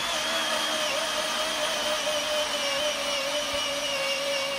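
A 51 mm (2-inch) hole saw bores through a garden table, giving a steady, loud continuous whirring grind that holds without pause throughout.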